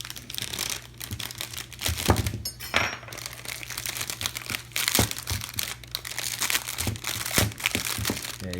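Knife slicing and tearing into crinkly plastic packaging, a run of sharp crackling bursts and scrapes close up, irregular and alone with no talk.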